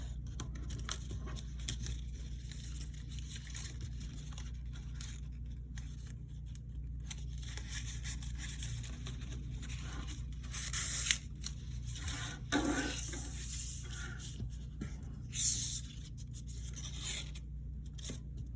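Silver paper is folded into a star, giving quiet crinkling, creasing and rustling handling sounds, with a few sharper crisp creases over a low background hum.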